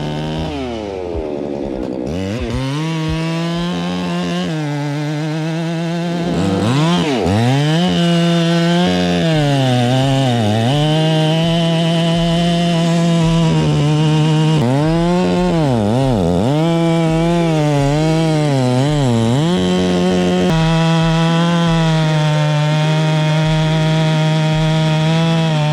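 Freshly ported Husqvarna 395 chainsaw with a 42-inch bar cutting into a huge rotten maple trunk, loud and close, the engine holding a high steady whine that sags and rises in pitch as the chain bites through the wood.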